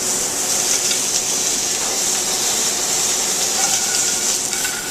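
Shallots and garlic sizzling in a hot pan with opening seafood for frutti di mare, a steady bright hiss and crackle that holds evenly throughout.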